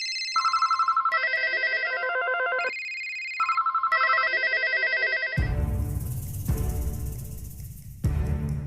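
A telephone rings in a repeating electronic ringtone pattern, loud and close, then gives way to a broad burst of noise for the last few seconds.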